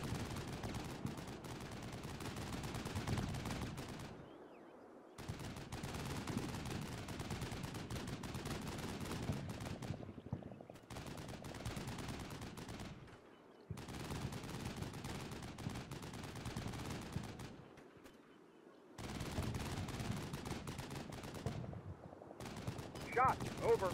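Gunfire in the Cold War wargame Combat Mission Cold War, dense bursts of machine-gun and rifle fire filling several long stretches broken by short pauses, loud and continuous with no talk.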